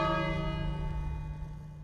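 A bell rings in the King's Quest video game, one sustained, resonant toll that decays slowly over about two seconds.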